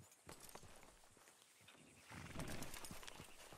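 Horse hooves clop along in Red Dead Redemption 2, quiet and steady, growing louder and busier toward the end as the horse moves closer; no whinny stands out.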